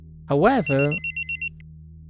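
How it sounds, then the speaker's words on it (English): A phone alarm goes off in a Doki Doki Literature Club mod game, a short run of four even electronic beeps following a brief spoken word. "a phone alarm goes off, which sends a shiver down my spine"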